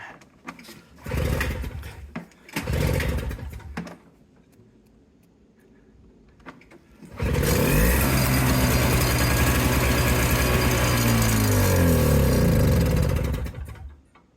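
An old Toro CCR200E snowblower engine takes two short pull-start bursts, goes quiet, then catches and runs loud and steady for about six seconds before cutting out. No one speaks.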